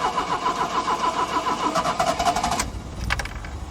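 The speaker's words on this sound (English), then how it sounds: "I will leave you be, guys, with the sound of this car" An old car engine on MOT test day cranks with a rhythmic whirring starter, then catches and runs with a rough, uneven idle, close and fairly loud.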